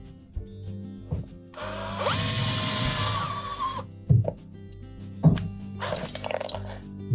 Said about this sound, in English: So a cordless drill and about an 1/8 inch bit into the center of that rivet.